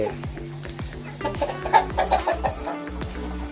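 A large flock of about 500 chickens on a farm raising fancy pama, koy and mangon breeds clucks and squawks in overlapping bursts, close and busy, with sharper calls rising above the constant chatter.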